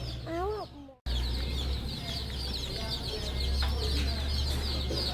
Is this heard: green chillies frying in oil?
no